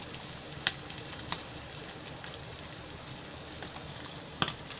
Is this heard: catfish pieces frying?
yes